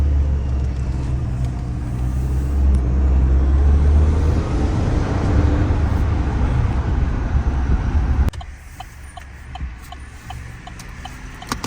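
A 2022 Chevy Silverado pickup truck drives along, heard from inside as a steady low engine and road rumble that drops noticeably quieter near the end.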